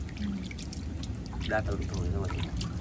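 Water pours and trickles over a sickle as it is rinsed, a splashing flow running continuously beneath a person talking nearby.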